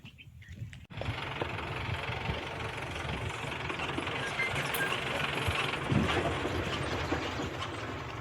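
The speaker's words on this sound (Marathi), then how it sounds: "खालच्या रानात पहा ट्रॅक्टर आलाय" A tractor works in the lower field of a chickpea farm, its engine rattling with a dense, steady mechanical clatter that starts abruptly and stays loud and close throughout.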